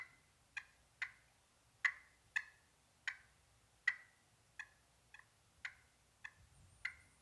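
Hunter's turkey call worked with a striker gives about a dozen sharp, short clucks, spaced roughly half a second apart, crisp and isolated against a quiet outdoor background.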